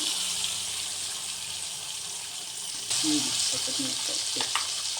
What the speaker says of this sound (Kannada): ಸೊ ಇದಕ್ಕೆ ನಾವು ಇವಾಗ ನಾವು ರುಬ್ಕೊಂಡಿದ್ದಂಥ ಮಸಾಲೆ ಹಾಕ್ಕೊಬೇಕು.